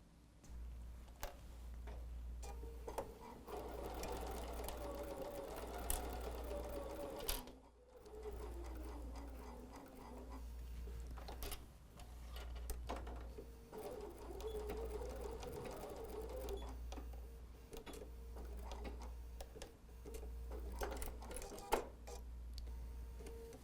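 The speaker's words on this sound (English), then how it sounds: "So let's go to the sewing machine right now." A sewing machine stitches in repeated bursts with a rhythmic mechanical hum, pausing briefly between runs; quiet room sounds and small clicks in between.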